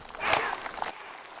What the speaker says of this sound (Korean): 연단에 앉아있던 김정은 위원장은 박수를 치다가도 때때로 긴장된 표정도 보였습니다